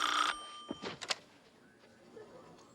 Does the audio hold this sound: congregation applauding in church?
no